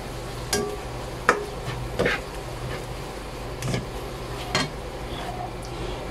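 Spoon scraping and stirring SPAM adobo with pepper in a pan, with several sharp, evenly spaced scrapes and clacks over a low, steady sizzle.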